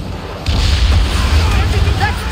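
Cannons fire in a naval battle in the game Assassin's Creed Origins, a deep rumbling boom that rolls on under a shouted voice and busy battle noise.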